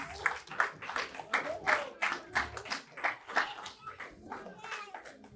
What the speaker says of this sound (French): Applaudissez pour les conseillères aussi.